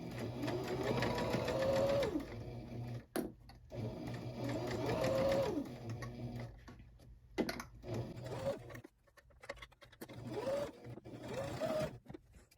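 A sewing machine stitches a quarter-inch seam on a dress, with back stitching; steady motor whirring runs in several bursts with short pauses between, close up and fairly loud, no talking.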